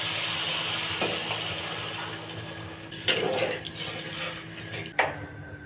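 Water is poured into a hot pan of spiced mustard paste before small rui fish are added, producing a steady sizzling hiss with occasional clinks and bubbling bursts, close and continuous, with no talking.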